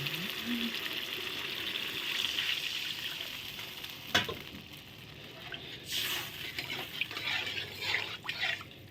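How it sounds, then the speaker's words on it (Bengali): Water poured into a pan of paneer curry with poppy seed paste, giving a steady sizzling, bubbling hiss with brief drips and stirring sounds, moderately close and without talk. "এই যে এখন দিয়ে দিচ্ছি জল।"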